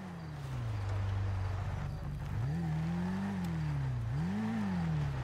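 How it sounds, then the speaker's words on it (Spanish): A motorcycle engine in GTA V hums steadily, then revs up and down twice in rising and falling swells, close by and loud with no talk over it. "Hay una moto, está haciendo ruido."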